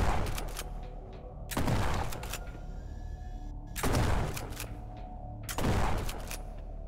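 Gunfire from a ship in the video game Farlight Commanders: heavy booming salvos of rapid shots, three loud bursts spaced about two seconds apart over a constant rumbling background, with no talking.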